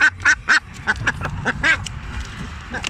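Several laying ducks quacking in quick, overlapping bursts, loud and close, with a brief scatter of calls trailing off.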